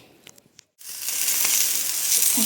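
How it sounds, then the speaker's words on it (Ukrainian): Eggplant slices hitting hot oil in a frying pan: a few light clicks and a brief pause, then a sudden, strong, steady sizzle that keeps hissing loudly to the end. "І буду смажити, смажити просто на сковорідці з маслом."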